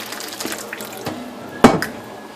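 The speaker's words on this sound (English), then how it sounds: "put the hot water in it." Hot water pours from a pot into the bowl of seasoned meat, a short splashing gush with a few drips and clatters around it.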